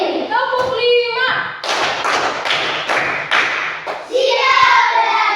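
Pupils in a classroom clap together in a counted pattern, a run of four or five loud synchronized claps framed by the group chanting in chorus before and after.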